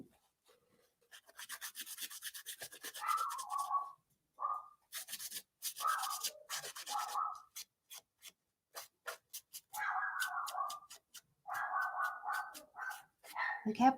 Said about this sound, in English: Sorry about my dog, y'all. I know y'all could hear him.